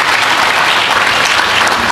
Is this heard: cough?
no